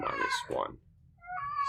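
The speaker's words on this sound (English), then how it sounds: "I apologize for my cat for being very vocal today" A house cat meows twice nearby, loud and wavering, during a math lesson as someone speaks briefly between the calls.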